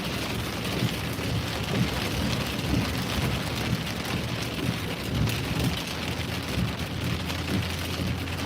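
Heavy thunderstorm rain in Massachusetts pours down in a dense, steady roar that stays loud and even throughout, with no voices.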